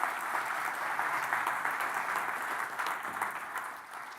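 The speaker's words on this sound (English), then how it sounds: "Give them a round of applause as well." A keynote audience at a large tech conference claps for the event's gold and silver sponsors, a dense, even wash of applause that holds steady and then tapers slightly toward the end.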